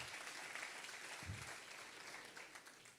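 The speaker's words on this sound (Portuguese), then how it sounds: "Aplaude ele, aplaude." Faint, distant applause from a church congregation during a sermon, a steady wash of clapping lasting a few seconds.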